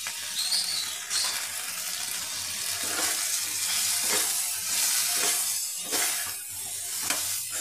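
Okra cooking in a pan with chilli, pepper, cumin and coriander powders: a continuous close sizzle with rough, scraping stir strokes rising and falling over it.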